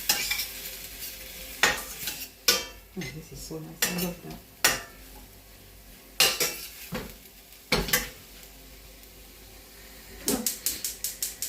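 A spoon stirring alkaline sauce in a pot with a little added water, giving repeated scraping knocks against the pot and a soft sizzle beneath them, with a brief spoken comment partway through.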